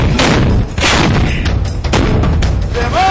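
M777 ultralight howitzer artillery firing, heavy booming blasts with a strong low rumble, several shots in quick succession, loud and close, rolling reverberation between reports.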